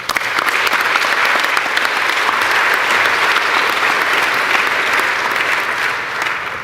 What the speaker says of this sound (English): I would love to take a moment to applaud each member of the class of 2021